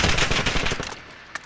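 AK-47 firing in Call of Duty Modern Warfare: a close, loud automatic burst of rapid shots that thins out and fades within a second, followed by one faint click-like pop.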